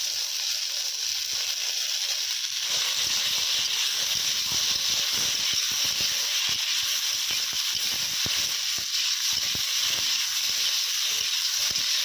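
Vegetables frying with ginger and cumin paste for a fish curry with figs, giving a continuous loud hiss and sizzle, close and steady throughout, with no talking.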